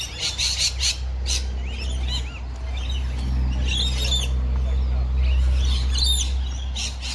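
Birds at a bird sanctuary squawk and chirp in repeated harsh calls, some near and some farther off, over a steady low background hum with no clear talk.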